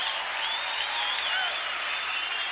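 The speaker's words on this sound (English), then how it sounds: "Give him a round of applause." Comedy show audience applauding George Carlin, a steady wash of clapping that holds at an even level for a couple of seconds.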